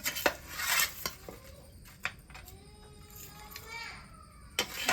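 Fried chicken goes onto a plate with clinks of dishes and cutlery. Sharp taps and scrapes come at irregular moments while children's voices and other talk carry on in the background.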